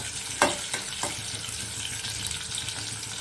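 Medium-cut onions frying in a pan for bitter gourd sambar, a steady close sizzle with a few sharp stirring scrapes near the start, no voices.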